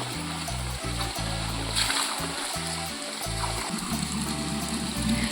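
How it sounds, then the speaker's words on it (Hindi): Monsoon rainwater flows and splashes steadily along a village path near a home, a continuous close wash of water with music underneath. "कितना पानी देखो, आजकल बरसात में यहाँ पे ज्यादा पानी हो जाता है"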